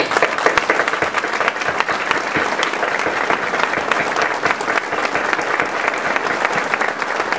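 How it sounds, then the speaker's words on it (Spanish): A crowd gives itself a round of applause at a Godparents' Day event, loud sustained clapping with crisp individual claps close by over a dense wash, steady from start to finish. "quiero que ustedes mismos se den un aplauso a ustedes mismos"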